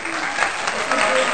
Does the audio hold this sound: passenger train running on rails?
no